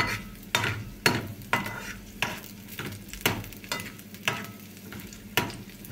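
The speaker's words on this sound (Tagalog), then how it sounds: "So, nilagay ko lang dito ay bawang, sibuyas at luya. Ginigisa-gisa ko lang." Garlic, onion and ginger sautéing in a pan, with a steady sizzle broken by regular sharp scraping stirs about every half second, close and fairly quiet.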